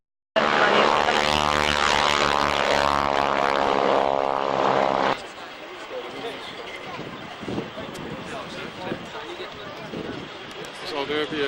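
A propeller aircraft at the 1993 RAF Waddington airshow drones loudly overhead with a strong pulsing engine tone for about five seconds, then cuts to a quieter crowd scene with voices.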